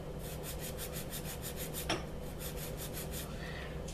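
Rhythmic rasping strokes of a nail file on the side of an acrylic nail with a natural tip, close and steady, about a dozen even passes with no talking.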